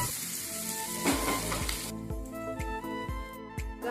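Salted chopped onions sizzle steadily in a hot pan, with a run of regular soft knocks from stirring in the second half and a faint tonal hum underneath.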